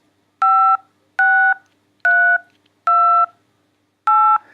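Five separate dual-pitch DTMF telephone keypad tones, each about a third of a second, pressed at a steady pace with silence between them.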